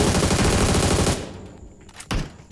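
Rapid bursts of automatic gunfire from the PUBG Mobile battle royale game, a loud dense volley for about a second that cuts off abruptly, followed by a quieter single shot.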